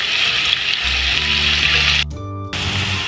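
Onions fry in a hot pan toward golden brown, giving a loud, continuous close sizzle with a low hum underneath and a brief dip partway through.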